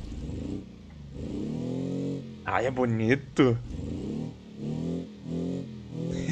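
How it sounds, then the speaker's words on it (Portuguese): A Volkswagen Beetle (Fusca) engine in BeamNG Drive drones steadily with a buzzy, harmonic hum that dips and swells as the throttle shifts, while someone speaks briefly in the middle. "tamo lá na entrega de pizza com Fusquinha e ó o barulhinho do motor"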